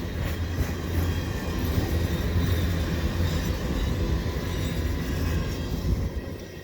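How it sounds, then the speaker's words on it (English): A CN freight train rolls past in winter, its cars rumbling and clattering steadily and loudly up close as the tail end goes by, with no voices. "And there's the end of the train."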